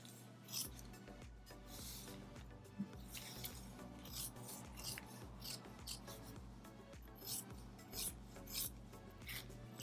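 Scissors cutting through fabric for a custom T-shirt, giving steady rasping, rubbing snips that repeat irregularly across the clip at close range, with no talking.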